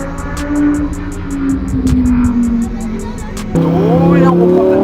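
A Lamborghini engine hums steadily under braking, then surges louder and higher as the car accelerates again on a track, with an instructor talking throughout.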